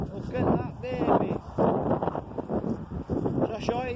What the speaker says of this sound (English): So it's actually quite windy now.